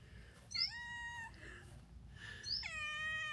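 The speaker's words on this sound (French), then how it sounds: "On a le petit chat." A small cat on a rural estate meows twice, a clear drawn-out call near the start and another toward the end, close and distinct over quiet background hiss, with no speech.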